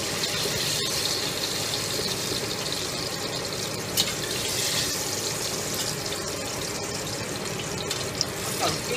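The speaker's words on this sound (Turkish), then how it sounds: "Sonra buna salçalı su ekleyeceğim." Water mixed with tomato paste poured into a pan of minced meat, giving a steady, fairly loud rushing hiss that runs unbroken for about nine seconds, with a few faint clicks and no talking.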